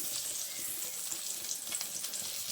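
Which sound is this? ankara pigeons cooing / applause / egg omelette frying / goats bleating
egg omelette frying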